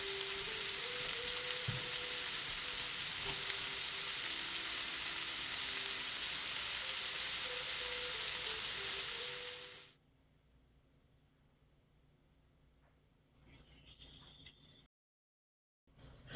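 Egg scramble sizzles loudly in a frying pan while being stirred, a dense steady hiss with scraping for about ten seconds, then it cuts to a much quieter low hum and brief silence.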